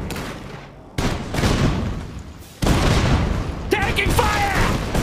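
Gunfire and heavy booms in Iron Harvest, the real-time strategy game, come as bursts of shots. Loud blasts land near the one-second mark and again near 2.6 seconds, with unit voice callouts mixed in.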